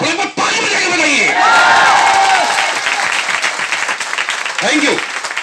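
An audience at a business seminar bursts into loud clapping and cheering, dense applause mixed with shouts and whoops that swells and then tapers, with scattered voices in the crowd.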